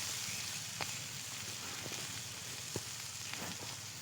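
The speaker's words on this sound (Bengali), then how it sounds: "দিয়ে এটাকে একটু কষাতে থাকবো, কাঁচা মশলার গন্ধটা চলে যাবে।" Spices sautéed with a little sugar in a pan for shim posto, giving a steady, fairly quiet frying sizzle with a few faint utensil taps.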